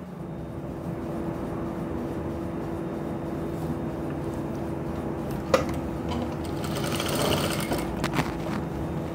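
A sewing machine runs steadily, stitching a doubled fabric strip with a continuous mechanical whir and hum, getting a little louder and busier near the end, with no talking.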